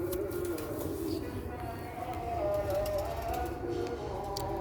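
Black-faced pigeons cooing softly in a loft amid a busy background of faint chirps and ambient noise, with low murmuring voices underneath.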